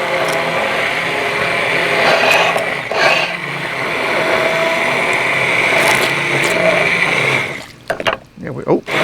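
A blender whirs steadily, chopping larger tomato pieces for marinara sauce, a loud even buzzing hum held for several seconds before it cuts off with a few clunks and rattles.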